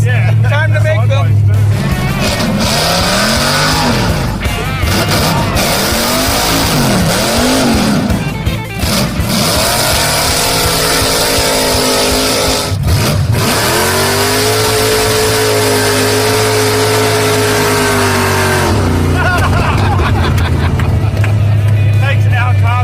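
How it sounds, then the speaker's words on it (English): Impala muscle car doing donuts in a cul-de-sac, engine roaring and revving loudly as tires squeal in repeated sweeping arcs, with people talking and shouting over it. "It's cul-de-sac donuts."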